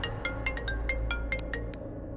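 A quick, bright electronic ringtone plays a rapid pattern of short chiming notes, moderately loud and close, then stops abruptly.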